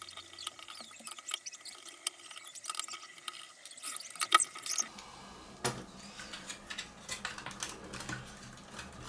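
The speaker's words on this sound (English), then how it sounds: "Basically, you just take all the screws you can see out." Screws being removed from a Nintendo GameCube shell, faint close clicks, ticks and small metallic rattles scattered irregularly, quiet overall with no speech.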